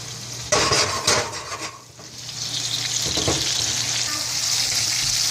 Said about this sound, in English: now we're really gonna saute the shrimp pretty hard now